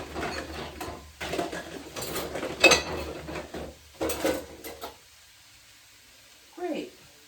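Food processor parts and kitchen utensils clink and clatter in short bursts as they are gathered and handled, with people talking over the rattling before a brief quiet.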